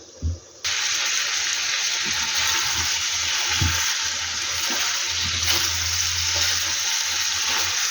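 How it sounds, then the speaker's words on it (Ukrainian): Frozen pepper hits a hot pan and fries, a sudden loud sizzle that holds steady and close, with occasional scrapes and knocks of stirring underneath. "Перець він дуже швидко готується."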